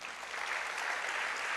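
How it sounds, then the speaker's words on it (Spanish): A church congregation claps together during a sermon, a soft, continuous patter of many hands that builds slightly and holds, heard from a distance with no speech on top. "Dale un aplauso a Dios."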